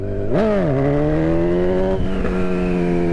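Motorcycle engine droning steadily at about 20 miles an hour, a loud close hum that rises sharply in pitch once early on and then holds an even tone.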